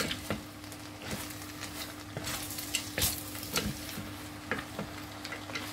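Spicy chicken and spaghetti tossed together in a pan, with repeated scraping stir strokes over a steady low sizzle, close and moderately loud, with no talking.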